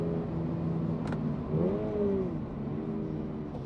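A Toyota GR86 on a race track holds a steady engine drone, then revs up and falls back midway through, the note rising and sinking clearly over a rumbling background.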